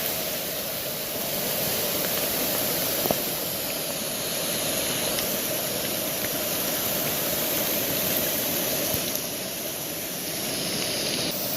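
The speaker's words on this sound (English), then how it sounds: "All the water coming down." Rainwater runoff rushes down a creek from a camp's shooting area in western Pennsylvania after a very wet spell. It makes a steady, dense hissing roar of flowing water, even and unbroken, with no voices.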